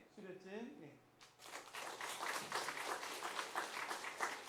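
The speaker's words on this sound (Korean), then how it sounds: "우리 박수로 격려해 주시기 바랍니다" A congregation at a Korean Presbyterian Sunday worship service breaks into applause for a certificate presentation. A voice speaks briefly first, then sustained, moderately loud clapping fills the rest of the moment.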